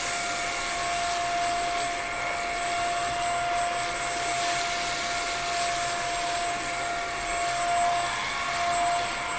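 A vacuum cleaner runs steadily and loudly on carpet close by, a constant motor whine with a high pitched tone and broad rushing noise, no voices.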